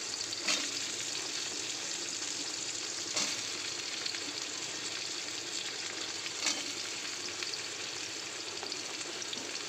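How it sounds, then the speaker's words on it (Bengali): Potatoes fry over a spice tempering with chopped onion in a pan, giving a continuous soft sizzling hiss with a few faint clicks of stirring, fairly quiet and with no voices. "ফোড়নের ওপরে আলুটা দিয়ে একটু ভেজে নেব"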